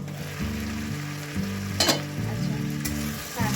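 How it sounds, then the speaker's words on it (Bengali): Mixed vegetables for a home-style vegetarian curry fry in a pan with a steady, close sizzle, broken by a few louder stirring scrapes and no talking. "দু মিনিট অন্তত ভাজা হোক আস্তে আস্তে করে সবজিগুলোও সেদ্ধ হয়ে যাবে"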